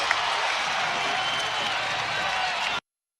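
A basketball arena crowd roars loudly for the Dallas Mavericks during a scoring run against Houston, a dense, sustained wall of cheering and clapping that cuts off abruptly near the end.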